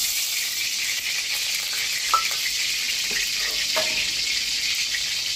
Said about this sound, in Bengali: আর দিলাম 4টে শুকনো লঙ্কা, 4টে তেজপাতা একটু করে ছিঁড়ে দিলাম